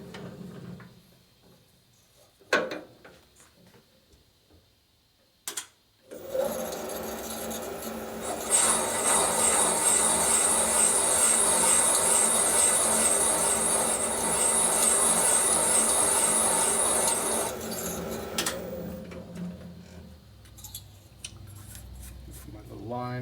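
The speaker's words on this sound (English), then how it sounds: "Back with the other cutter, cut away the excess." Valve seat cutter turning in a seat of a 1974 Harley-Davidson 74ci Shovelhead cylinder head, heard as a sustained close grinding scrape of about twelve seconds, preceded by a few clicks and handling noises.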